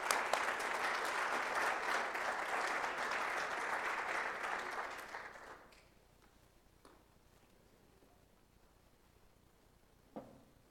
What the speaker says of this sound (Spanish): le pido que por favor le demos un aplauso en agradecimiento a su gentileza de venir a acompañarnos